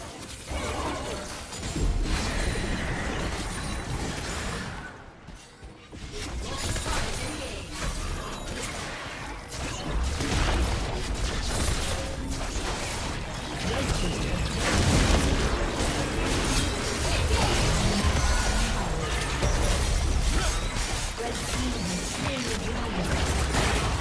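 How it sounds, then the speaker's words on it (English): A turret being destroyed in League of Legends: heavy booms, crashes and shattering bursts layered over dense, continuous combat effects, loud and busy throughout with a brief dip before the chaos resumes. "Red team's turret has been destroyed."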